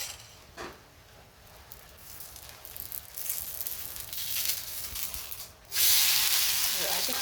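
Oil sizzling and hissing on a fasting (upvas) dosa cooking on a hot pan, a steady close frying hiss that swells louder near the end.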